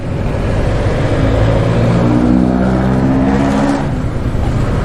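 Road traffic heard from inside a moving vehicle, a loud continuous engine hum with a rising then falling rev, tire and road noise underneath, no talk.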